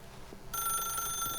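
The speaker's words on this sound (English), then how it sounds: "then pick up the phone" A telephone rings in the video game The Stanley Parable, a bright electronic bell tone that starts abruptly partway through and sustains steadily to the end over a quiet background.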